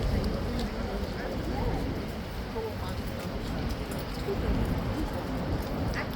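Horse hooves clip-clop at Horse Guards in London, a steady, moderately close run of hoofbeats over busy outdoor crowd noise, with people talking throughout.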